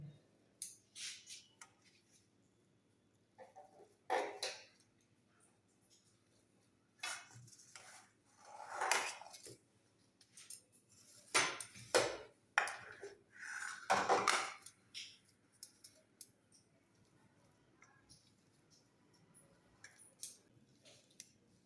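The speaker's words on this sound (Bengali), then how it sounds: "প্রথমে আমি আলুটা ভালো করে ম্যাশ করে নেব" Boiled potatoes for aloo paratha filling get mashed by hand, giving soft, irregular squishing and occasional utensil scrapes against a dish, in quiet intermittent bursts with pauses between.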